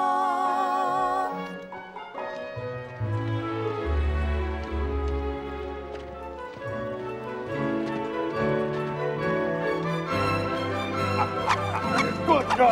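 A dog barks and whimpers in a Christmas-themed musical film scene, short yips and woofs rising over sustained orchestral music that plays throughout.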